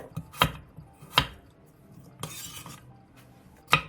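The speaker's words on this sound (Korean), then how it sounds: "3cm 두께의 무 한 토막을 한 입에 먹기 좋은 크기로 나박나박하게 썰어주세요." A knife cuts radish into thin, bite-sized square slices on a cutting board, four sharp, separate chopping knocks spaced unevenly, close and clear with quiet pauses between.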